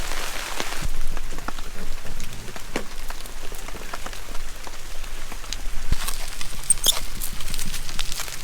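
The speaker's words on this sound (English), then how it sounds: "Rain's still coming down pretty good." Steady rain falls on a New Year's Eve campsite, a dense close patter of drops with occasional heavier splats and taps, continuous and without voices.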